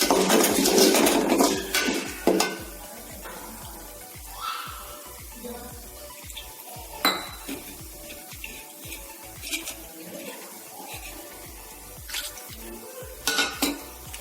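Turmeric powder being stirred into lemon rice in a pan, with repeated spoon-on-metal scrapes and clinks, louder bursts near the start and end and softer scattered taps between, no talk.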